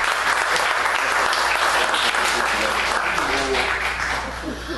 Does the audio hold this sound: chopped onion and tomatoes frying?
no